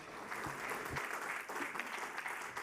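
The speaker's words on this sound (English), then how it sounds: "A round of applause for you." An audience at a forum on greening maritime corridors applauds a speaker, a soft, distant round of clapping that holds steady across the short stretch.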